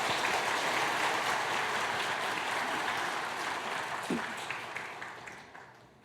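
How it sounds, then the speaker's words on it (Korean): A church congregation claps after a baptism during a Christmas service, a steady, fairly distant wash of applause that holds evenly for several seconds before thinning and fading out near the end. "우리 큰 박수 부탁합니다"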